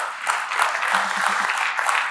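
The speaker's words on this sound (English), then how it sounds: "Can we have a round of applause for Pawan, please?" Audience applause for Dr. Pawan Saini as he is called to the dais at an HR and manpower budgeting talk, a steady moderate wash of clapping filling the whole stretch.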